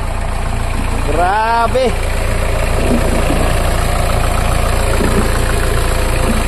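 A Kia Sorento diesel engine with a fault idles steadily just after starting, a constant close rumble, while someone speaks briefly over it.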